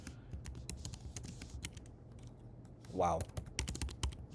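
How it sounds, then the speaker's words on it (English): Rapid clicks of typing on a computer keyboard run through the scene, close and fairly busy, while a person gives a short exclamation partway through. "I can't type on this keyboard."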